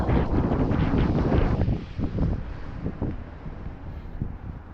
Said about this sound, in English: It is a little windy, but not like it has been.